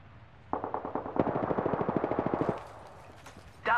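Rapid automatic gunfire from an Apex Legends firefight, a steady burst of closely spaced shots over about two seconds, loud and near, with a quieter shot before and a sharp sound at the end.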